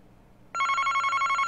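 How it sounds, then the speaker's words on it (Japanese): A telephone bell starts abruptly in a detective agency office in the Famicom Detective Club video game and rings on steadily with a rapid, trilling clang. "宇津木探偵事務所に恐ろしい事件の幕開けを告げる電話のベルが鳴り響いた。"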